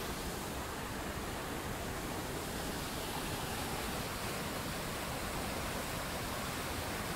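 The Água Branca river in Ubatuba rushes over rocks and small falls, a loud, close, unbroken hiss of flowing water with no talk.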